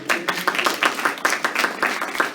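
An indoor audience at an adult education program claps in steady, dense applause, fairly close and even, with no talk over it.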